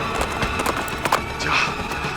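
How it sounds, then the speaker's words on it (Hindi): A horse's hooves clip-clop in an irregular run of sharp knocks, mixed with a brief whinny-like cry, close and fairly loud amid a busy dramatic soundtrack. "मेरा ही घोड़ा है शमशेर।"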